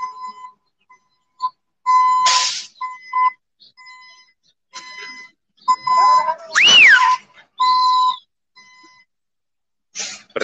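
Loud, shrill human whistles ring out in short sharp blasts, one rising and falling, with brief beeping tones scattered between, on a street during a moving job beside a bike lane.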